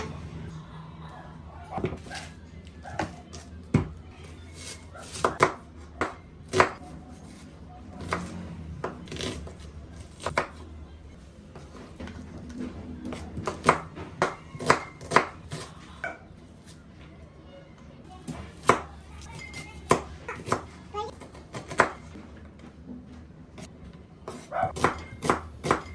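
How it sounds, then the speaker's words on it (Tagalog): An onion being chopped with a knife on a board for a salad, giving irregular sharp taps in clusters throughout, close and fairly quiet, with light kitchen handling noises between the cuts. "ang first natin gagayatin is itong ating onion"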